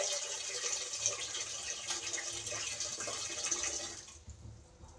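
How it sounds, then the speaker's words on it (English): Water from a tap pours steadily into a cooking pot for Jamaican brown stew chicken, a continuous close hiss and splash that cuts off near the end. "I'll put some water in my pot"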